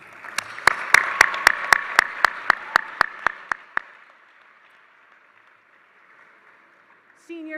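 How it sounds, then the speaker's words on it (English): About a dozen sharp, evenly spaced claps ring out in a large arena at a high school commencement, fading into a quiet hall and followed by a brief sound at the end. "let's recognize our family and our friends with a round of applause"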